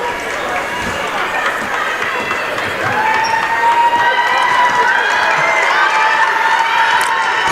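A gym crowd at a girls' varsity basketball regional final between Deering High and Oxford Hills roars and cheers steadily, swelling louder partway through, with shouts and whistles over a constant din and voices mixed in.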